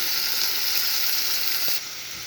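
Loud steady sizzle as water is poured into tomato masala frying in oil, a bright continuous hiss that eases slightly near the end, with no voices.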